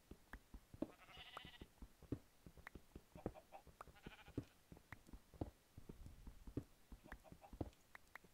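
Sheep bleating in Minecraft, two short nasal bleats standing out over a busy backdrop of clicky game sounds and footstep-like taps.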